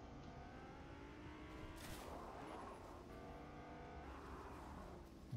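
A car in the video game Fortnite drives and revs at a distance, its engine tone rising and falling in waves, fairly faint and without talk.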